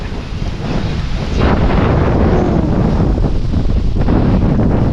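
Cold wind blows hard across the microphone as a loud, steady rushing roar that swells slightly after the first second and then holds without a break.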